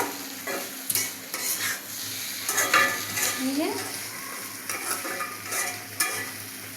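Tomatoes fry and are stirred in a pan among boiler chicken liver and mixed vegetables, giving a steady sizzle under repeated scraping strokes of a spatula, close and moderately loud, with no voices.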